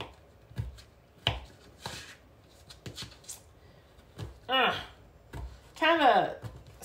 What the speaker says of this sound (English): we're just going to chop it into some little pieces